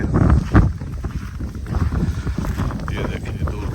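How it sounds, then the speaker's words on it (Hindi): Wind blowing across snow-covered ground outdoors during a first snowfall, a steady loud rushing gust that buffets the microphone, with brief low thumps and a faint voice in the background. "ये देखिए दूर तक अभी हवा चल रही है।"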